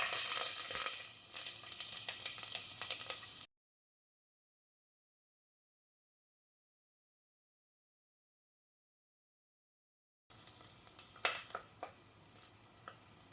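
Finely chopped ginger sizzling in hot oil in a pan for a chicken masala, a steady crackling fry that stops abruptly partway through and then resumes.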